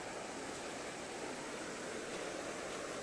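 Water in a fast-flowing creek makes a steady, soft broadband rush, faint and continuous with no voices.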